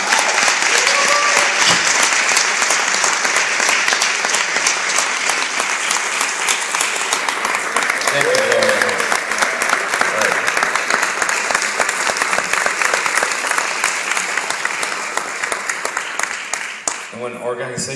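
Audience at a Feed & Fortify foundation event applauding, dense, loud clapping sustained for nearly the whole stretch, with faint voices mixed in before it thins out near the end.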